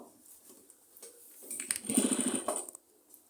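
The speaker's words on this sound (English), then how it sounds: "I'm gonna just over stitch now" A sewing machine over-stitches a round collar in a short burst of quick whirring stitches, close but fairly quiet, framed by softer handling clicks and rustles.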